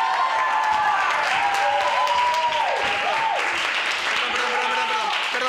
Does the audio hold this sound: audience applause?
yes